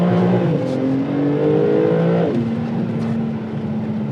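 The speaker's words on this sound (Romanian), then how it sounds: "Nu ai timp să respiri și să vorbești când accelerezi cu mașina asta." A Porsche 911 Turbo with ceramic brakes accelerates hard on a cold day, its engine note climbing through gears with a clear shift partway through, loud and close from inside the car with no talk.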